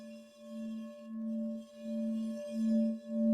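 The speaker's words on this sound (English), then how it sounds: "I have one of my favorite bowls here. So if I can just hit it and it sustains a sound," A singing bowl hums with a sustained, pure ringing tone and overtones, its loudness slowly swelling and pulsing in waves as it is kept sounding, with no talking.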